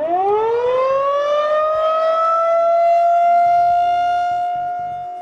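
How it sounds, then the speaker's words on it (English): An outdoor civil defense tornado warning siren winds up from a low pitch into a loud, steady rising wail, sounding alone and sustained throughout. "emergency management may sound the outdoor warning devices, commonly known as tornado sirens"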